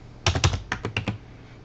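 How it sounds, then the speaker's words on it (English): Several quick presses on computer keyboard arrow keys during data entry in Microsoft RMS retail software, six distinct clicks in two short bursts, close and clear with no talking. "you can use the arrow keys on your keyboard"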